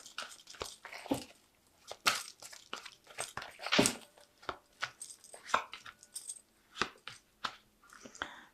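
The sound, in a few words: Fairy Tarot cards being drawn and handled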